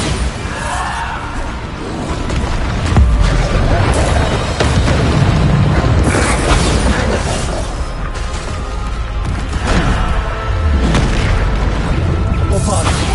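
Repeated Bombarda spell explosions in Hogwarts Legacy, a steady barrage of booming blasts and crashing impacts spread across the clip, loud and dense, with a voice speaking over the chaos.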